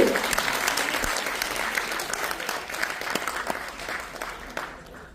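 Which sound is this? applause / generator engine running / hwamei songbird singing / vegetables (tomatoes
applause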